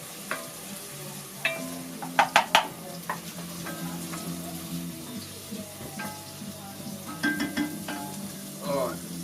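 Food sizzling and being stirred in a pan, with a steady frying hiss under scattered utensil clicks and a few sharp scraping bursts near the middle.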